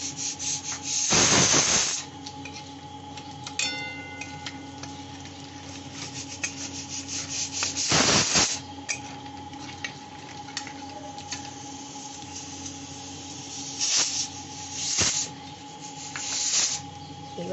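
Bay leaf, cinnamon and cardamom sizzle steadily in hot oil left from frying fish and potatoes, with a few loud scraping stirs of the spoon through the pan breaking over the constant hiss.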